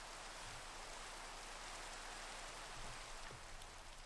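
Steady hiss of rainfall, soft and distant, an even unbroken wash with no voices over it.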